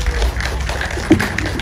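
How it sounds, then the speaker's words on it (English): An audience welcomes a guest onto a stage with applause, a continuous patter of clapping that stays steady and fairly loud for the whole moment, with no clear voices over it. "Please welcome her with a big round of applause."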